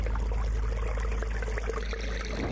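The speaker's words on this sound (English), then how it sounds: "What sickly liquid is this, draining into the pool, trickling from a scum-encrusted spout?" Sickly liquid trickling from a scum-encrusted fountain spout and draining into a pool in Eternal Darkness, a steady, close splashing stream with no break.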